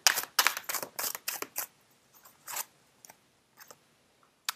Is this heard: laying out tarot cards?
yes